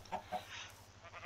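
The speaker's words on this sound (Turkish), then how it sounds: "bir tane tavuk sesi geliyor ama nerede acaba?" A chicken in the video game Minecraft gives two short clucks close together, then quieter chatter over a low background hum.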